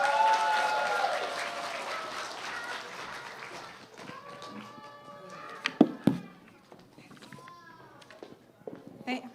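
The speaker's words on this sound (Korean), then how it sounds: "여러분 큰 박수로 맞아주시기 바랍니다" A church congregation at a children's Sunday worship service applauds to welcome a speaker. The clapping is loud and dense at first, then fades out as a voice begins talking, with a few footsteps and knocks.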